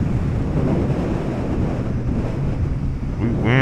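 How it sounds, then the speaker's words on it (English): Heavy wind buffets the microphone of a motorcycle rider in a constant low rumble, with a brief faint voice near the end. "Windy out here today, y'all."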